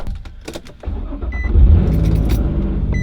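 A few light clicks and jingles, then a car engine cranks and catches, settling into a loud, steady idle up close.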